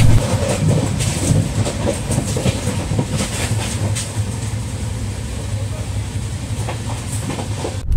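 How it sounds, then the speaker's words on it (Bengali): Gwalior Superfast Express rolling along the rails, a loud continuous rumble with rhythmic clickety-clack of the wheels heard from inside the coach, steady throughout. "আর 1:16-তে আমাদের ট্রেন ছেড়েছে"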